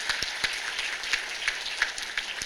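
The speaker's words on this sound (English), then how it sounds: "Please give her a round of applause" Scattered applause from a small audience at a nursing education and simulation center ribbon cutting, greeting the new student body president: moderate, a few sharp claps standing out over a steady patter for a couple of seconds.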